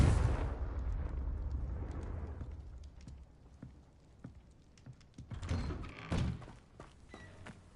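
A Confringo blasting spell detonates in Hogwarts Legacy: a heavy rumbling blast at the start that fades out, followed by scattered thuds and a second cluster of booming impacts, moderately loud and game-mixed.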